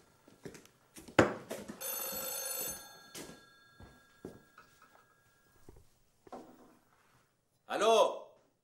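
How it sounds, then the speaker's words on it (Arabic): A telephone rings in a classic Egyptian drama, a mechanical bell pattering in short bursts between voices, with speech around it and a loud burst near the end. "حد يرد على التلفون؟"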